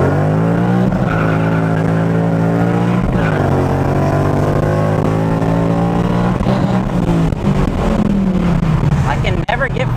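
A Ford Mustang GT is driven hard on track, with fourth gear hard to engage. Its engine revs climb loudly and close, drop, then climb again in repeated pulls through the gears.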